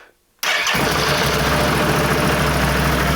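A 2018 Can-Am off-road vehicle engine cranks and catches after a brief silence, then settles straight into a loud, steady, close-up idle with a continuous mid-pitched mechanical drone.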